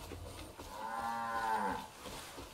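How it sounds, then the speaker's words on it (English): Cattle in Far Cry 5 let out a single long, close moo that swells and fades over about a second, set against quiet game ambience. "There's a bull fucking a cow."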